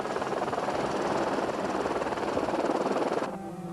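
A helicopter hovers over the 1986 Bathurst 125cc motorcycle race, its rotor producing a loud, steady rhythmic chop that fills the short stretch before dropping in level at the end.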